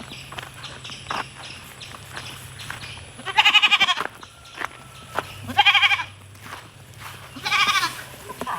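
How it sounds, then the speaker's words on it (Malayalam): A goat bleats loudly and close by at a farm, three drawn-out calls spaced a couple of seconds apart over quiet background noise. "ആടുണ്ട് ഇവിടെ"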